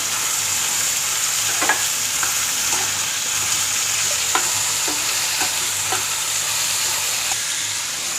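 Tomato, green chili, garlic and ginger sautéing in a pan give a steady, close sizzle and fry that runs throughout, with brief spatula scrapes and stirs scattered at irregular intervals. No one speaks.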